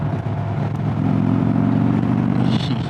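An Indian Springfield Darkhorse with a six-speed, air-cooled 116 engine pulls hard, its loud, close, throbbing exhaust note swelling and holding steady as the bike accelerates, with no voices.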